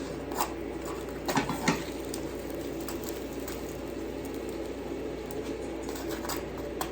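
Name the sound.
chicken fajita quesadilla crisping and sizzling in pan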